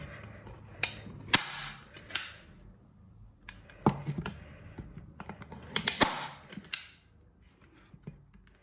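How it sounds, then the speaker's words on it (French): A staple gun fired into the floor as a test while building a DIY stool; several sharp, loud snaps arrive at irregular intervals, separated by quieter mechanical clicks and handling noise, with no speech. "Parce que je préfère toujours mettre une agrafe par terre que dans mon bureau en verre."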